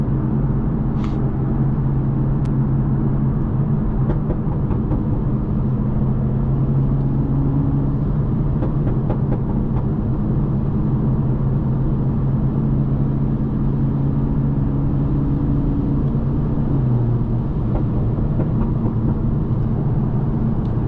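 A 2020 Toyota Supra with a maxed-out burble tune drives up a ramp. A dense, steady engine and road rumble runs throughout, with a slight rev shift near the end and no voices.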